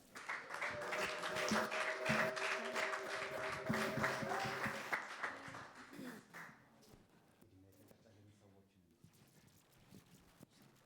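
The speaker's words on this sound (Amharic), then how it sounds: "እስቲ ለዚህ ጌታ እልልታና ጭብጨባ" A church congregation at an anniversary worship service bursts into loud applause and ululation, the clapping swelling for about five seconds before fading under a voice.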